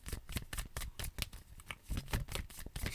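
A deck of tarot cards is shuffled close up, with quiet, rapid riffling bursts repeating in a steady rhythm.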